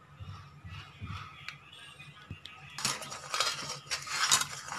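A spoon stirs milk boiling in a pot for angoori rabri, scraping and clinking against the metal in a steady rhythm that grows louder and busier partway through, close and with no voices.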